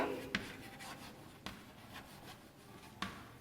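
Chalk or marker strokes on a classroom board during a Class I general knowledge lesson, soft scratchy writing with a few sharper taps, fairly quiet and close, with no talk.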